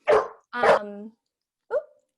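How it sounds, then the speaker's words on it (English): A dog gives two sharp, close barks in quick succession, then a shorter yip after a pause, clear and loud against silence. "I think your dog's barking."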